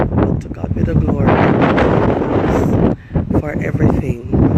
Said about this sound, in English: I'm going to try and see if I could get my voice to be heard this morning without all that wind.